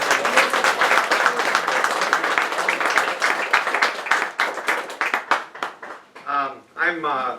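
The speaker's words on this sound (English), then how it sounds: "Give a round of applause to Dorothy." A room full of people applauds for Dorothy at a talk about the Gatewood Bed & Breakfast, dense clapping that thins out near the end as a voice begins speaking.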